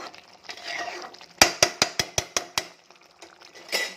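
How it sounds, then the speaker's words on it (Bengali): Egg dish stirred in a pan, a run of about seven sharp, evenly spaced metallic scrapes and clinks of a utensil against the pan, close and loud, with quieter clatter before and after. "আমি এটাকে আর 5-10 মিনিট লাড়াচাড়া করবো।"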